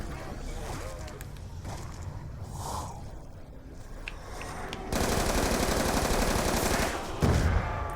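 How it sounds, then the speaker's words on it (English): Guns fire in Black Ops 2 Zombies, steady game noise that turns into a loud, dense burst of rapid automatic gunfire partway through, with a louder shot near the end and a voice reacting underneath. "Oh, the guy's shooting him."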